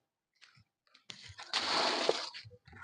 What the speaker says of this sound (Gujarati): ઝાડવાને પાણી પાય છે.